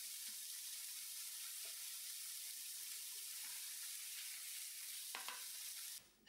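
Minced beef pan-fries in oil as a soft, steady sizzle with faint scattered stirring noises and a brief clack near the end, quiet throughout.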